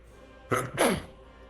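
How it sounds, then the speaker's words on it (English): A single sneeze from a man chatting on a live stream, a sharp intake burst followed by a louder explosive release, close and clear over a quiet background. "I'm sneezing, guys."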